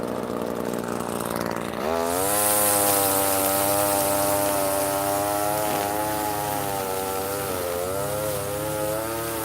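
An ECHO PAS hedge trimmer engine starts up and runs, a buzzing two-stroke drone with a rising and slightly wavering pitch, close and loud, no one talking.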